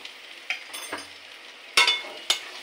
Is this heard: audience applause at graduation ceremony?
no